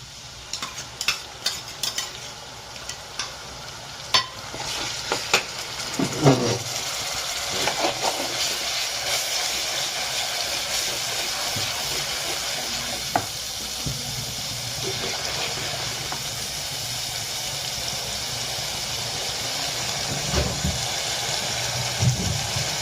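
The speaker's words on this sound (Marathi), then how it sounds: "आणि आता आपण टाकणार आहे कोकणी मसाला" Konkani masala of onion, coconut, garlic, chili, ginger and salt fries in a hot pan for a spicy fish curry, sizzling steadily as a spoon scrapes and stirs with intermittent clanks, close and loud without talking.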